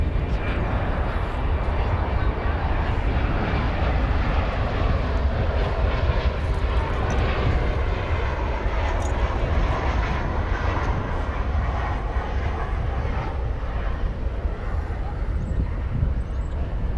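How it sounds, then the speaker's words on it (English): Twin Qantas jet airliners at DFW Airport produce a steady, broad jet engine roar, moderately loud and sustained throughout with some wind noise. "the twin Qantas jets."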